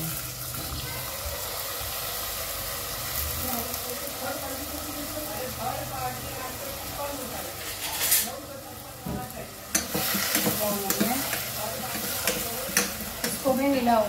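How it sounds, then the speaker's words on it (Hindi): Radish fries with asafoetida, garlic paste and spices while being stirred vigorously in a pan. A steady sizzle runs under bursts of scraping stirring that grow busier toward the end, with faint voices in the background. "इसको मैं मिलाऊंगी, जोर से उसे मसाला करूंगी।"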